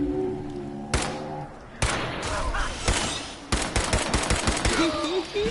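Enemy gunfire in a Fallout Brotherhood of Steel game comes as sharp bursts and rapid shots with thuds, in loud clusters separated by brief pauses, mixed with game sounds.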